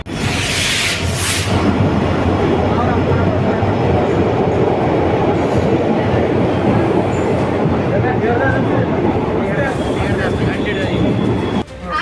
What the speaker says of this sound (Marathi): तर मित्रांनो, रेल्वे आलेली आहे.